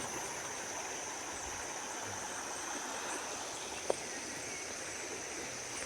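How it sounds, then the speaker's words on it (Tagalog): Steady rushing of a rural river in the Philippines, a constant broadband wash with no voices, one brief click standing out partway through. "Ito po yung ilog namin dito mga kababayan."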